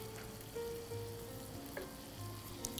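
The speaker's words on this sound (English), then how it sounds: "So we're just going to take the sliced mushrooms and just kind of put it in the pan with the" Sliced portobello mushrooms fry quietly in a pan with little or no oil, a faint, steady sizzle broken by a few soft clinks and tonal hums in the background.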